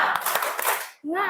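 A school class doing a rhythmic tepuk semangat spirit clap, with a few sharp, loud hand claps under voices chanting together, then a voice rising clearly after a brief gap.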